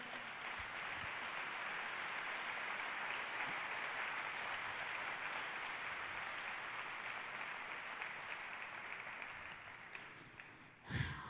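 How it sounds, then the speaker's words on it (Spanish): Congregation applause at a church service, a dense steady wash of many hands clapping throughout, heard from within the room with no talk over it. "Dele un buen aplauso al Rey."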